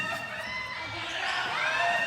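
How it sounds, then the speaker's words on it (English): A crowd at an interlodge basketball game cheers and shouts, a dense, swelling roar of many voices that grows slightly louder toward the end. "And the crowd loving it for Soriano."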